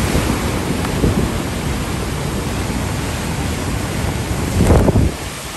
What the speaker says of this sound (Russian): Брызги, волны,